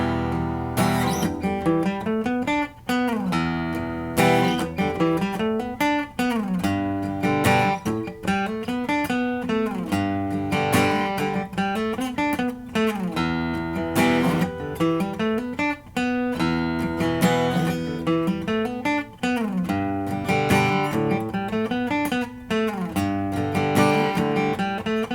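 Acoustic guitar strums steady chords and weaves quick single-note lead lines between them, a continuous, full-bodied rhythmic pattern with no voices.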